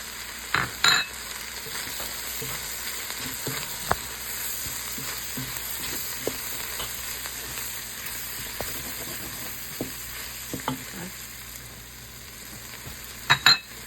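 Seasoning is stirred into red lentil jambalaya frying in a pot, giving a soft continuous sizzle with repeated scraping stirs and a few sharper knocks of the spoon against the pot.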